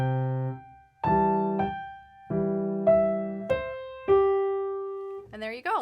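Slow hands-together piano rendition of the opening two bars of the B section of Scott Joplin's The Entertainer, ragtime, with sustained bass-and-treble chords struck one by one and ringing out, clear and close, no talking.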